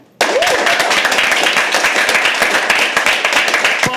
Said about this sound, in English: So we're gonna do a test round of applause, okay?